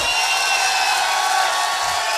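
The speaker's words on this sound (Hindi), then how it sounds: "अब तक की सबसे जोरदार तालियां, सबसे जोरदार तालियां" A steady wash of audience applause and cheering at a motivational talk, dense and continuous clapping that fills the whole moment at an even level.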